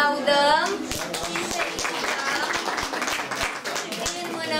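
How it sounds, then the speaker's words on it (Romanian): A school class claps for a young pupil at a 100-days-of-school celebration, brisk uneven clapping from many small hands with a voice audible at the start. "Îl aplaudăm."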